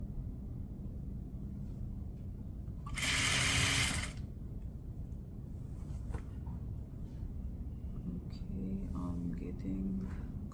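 A sewing machine stitches the seam of a jacket sleeve in a short, steady whirring run of about a second, close and clear above a low background hum, with a voice talking around it.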